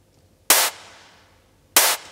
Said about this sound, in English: And you get the little clap here.